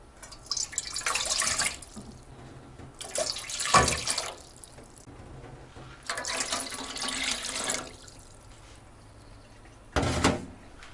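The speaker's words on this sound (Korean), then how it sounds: "냄비에 물 3컵을 붓고요." Three cups of water pour into a pot in three separate bursts of splashing flow, each a second or two long, close up with pauses between.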